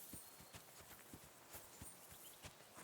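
Horse hooves clip-clop in the video game Kingdom Come: Deliverance, a soft, faint, steady walking rhythm of evenly spaced knocks with no talking.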